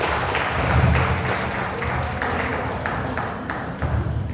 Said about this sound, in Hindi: एक बार तालियां बजा के बताओ।